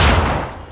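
A single Magnum pistol shot in Mafia II: Definitive Edition, a loud close blast that decays quickly within a second.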